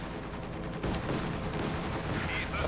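Soviet airstrike in Company of Heroes 2, a dense rumble of explosions and gunfire bursts that swells around the middle and stays loud to the end, with a commentator's voice talking over it.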